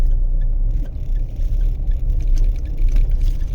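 A Mahindra Thar ROXX MX1 engine drones loud and close with steady low rumble, swelling slightly as it is given throttle, no voices over it.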